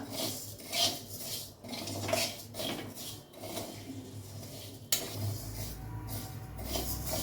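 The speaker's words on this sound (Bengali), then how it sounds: "আমি মুগ ডালটা একটু হালকা ভেজে নিচ্ছি" Moong dal lightly roasting in a pan, with a steady series of dry rasping scrapes and rubs as a spatula stirs the lentils against the metal, close and moderately quiet.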